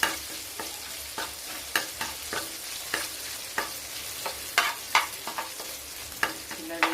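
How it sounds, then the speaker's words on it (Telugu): Ginger garlic paste sizzles steadily in a pan while a spoon scrapes and stirs it in irregular close clinks, no talking over the frying. "జింజర్ గార్లిక్ వేసుకోవాలి. స్మెల్ పోయే వరకు వేయించుకోవాలి."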